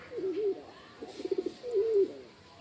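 A pet pigeon gives close, soft repeated coos: a rolling call, a quick stuttering burst of short notes, then another rolling coo, against a quiet room.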